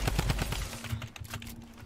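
Quick rattling bursts of a drum gun firing in Fortnite, rapid evenly spaced shots that thin out into scattered softer pops, fairly quiet.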